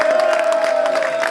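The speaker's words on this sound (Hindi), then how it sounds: "ये इनकी तालियां देखें" Crowd at an outdoor street gathering near a mosque cheers and claps in a dense, continuous roar, with a steady sustained tone running beneath the noise throughout.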